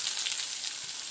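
Chopped small shallots fry in a few spoonfuls of oil for chicken kondattam, giving a steady, dense sizzle that stays even and close throughout, with no voices over it.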